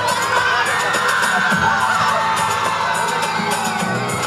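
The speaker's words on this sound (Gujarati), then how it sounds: "તાળીઓના ગણગડાટથી" Crowd at a Gujarati stage programme cheering and whooping loudly and continuously, with shouts rising over a dense wash of noise throughout.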